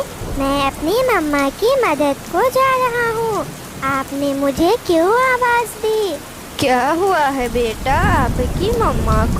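Heavy rain pours in a jungle cartoon, a loud, steady hiss of downpour running beneath animated characters talking throughout.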